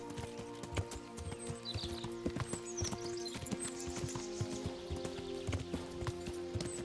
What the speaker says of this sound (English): And that's the random horse again.